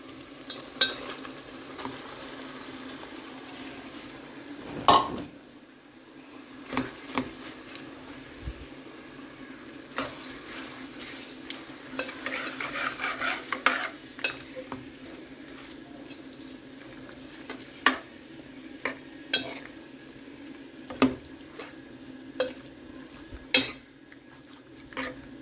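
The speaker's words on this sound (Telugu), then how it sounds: "మటన్ కర్రీ చేస్తున్నా" Mutton curry being stirred in a pan with mango leaves added, giving a low simmering sizzle and scattered clinks and scrapes of a utensil against the metal; no voices.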